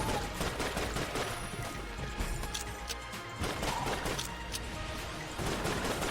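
Dense, continuous shooting from the Eye of the Beholster gun in the roguelike game Enter the Gungeon, layered with impacts and crashes throughout at a steady, loud level.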